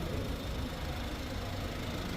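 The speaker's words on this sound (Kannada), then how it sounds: "ಇಂಜಿನ್ ನಾಯ್ಸ್ ಸ್ವಲ್ಪ ಜಾಸ್ತಿ ಅಂತ ಹೇಳ್ಬೋದು" A Kia Sonet HTX with a 1-litre three-cylinder turbo petrol engine runs steadily nearby, giving an even, dense mechanical hum with a faint knocking texture and no speech over it.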